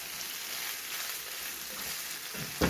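Bamboo shoots stir-fry with egg in a very hot pan, a steady close sizzle with a brief scrape of stirring near the end.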